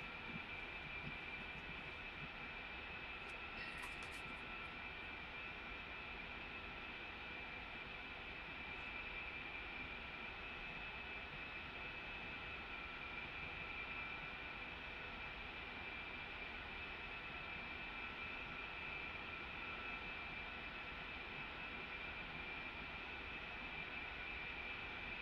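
An A-10 jet in the DCS World flight game spools up for takeoff, making a constant, even engine roar with a high whine that holds steady throughout, with no speech over it.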